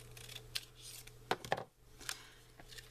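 Scissors snip through cardstock while a diamond fold card is being made, a few separate crisp cuts spaced across a quiet indoor background with a low steady hum.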